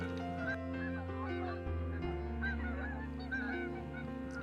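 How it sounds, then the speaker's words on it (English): A flock of geese honking as they descend to land, many overlapping calls rising and falling continuously, fairly close and steady, with no talk. "It can be silky smooth when geese rain down."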